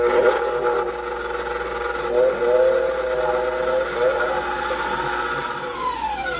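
Electric mixer whipping egg whites with baking soda toward stiff peaks, a steady whirring motor hum with a shifting whine as the beaters turn through the foam, continuous throughout.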